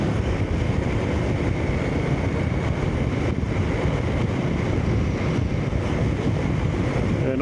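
Steady wind blowing on a windy day during a motorcycle ride outdoors, a loud continuous rush and buffeting that stays even and unbroken from start to finish, with no voices.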